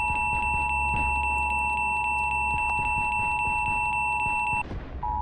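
A steady missile-warning tone in a DCS combat flight simulator sounds inside the cockpit, with fast, regular high beeps pulsing over it. Both stop abruptly near the end, then the tone briefly returns over low engine rumble.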